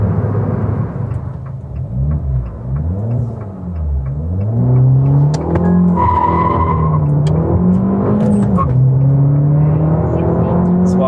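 Abarth 595 hatchback accelerating hard on a road test drive, its engine note climbing through the revs with gear changes around 6000 rpm, loud and close from inside the cabin with a brief whine overhead.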